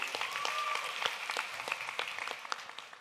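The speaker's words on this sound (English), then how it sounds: "A round of applause for you." Audience applause at an e-commerce festival: a steady wash of many hands clapping, moderately faint and slightly distant, with sharper individual claps poking through and no talking.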